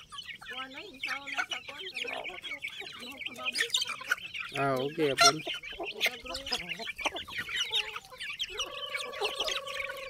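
Chickens clucking and cackling close by, mixed with bursts of talk and a few bird chirps, with a steady tonal tone near the end.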